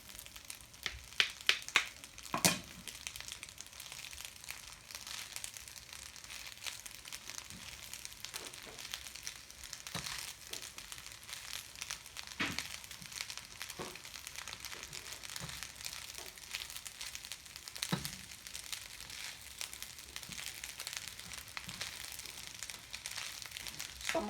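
An egg frying in a pan, a constant crackling sizzle with scattered sharp pops and spits, close and steady throughout, with a few louder clatters near the start.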